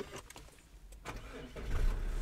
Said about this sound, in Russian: Давайте запустим мотор.